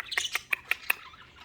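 Budgies waking in the morning give five sharp, evenly spaced chirps and squawks over about a second, close and fairly loud against a quiet room.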